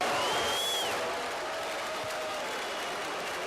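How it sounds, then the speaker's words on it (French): Applause from a large audience at the Congress of Mayors of France greeting Nicolas Sarkozy, a steady wash of distant clapping, heard alone. "Nicolas Sarkozy a été applaudi et aussi sifflé au Congrès des maires de France"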